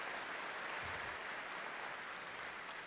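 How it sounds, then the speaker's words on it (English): Crowd applause at a live gaming showcase event, a steady wash of clapping and cheering heard from a distance, fairly faint and continuous throughout without talk over it. "you can hear the crowd"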